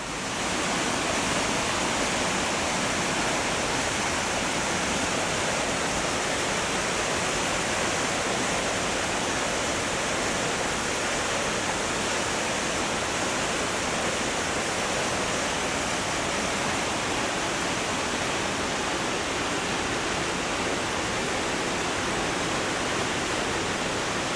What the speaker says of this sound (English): This is the falls of the River Clyde at New Lanark.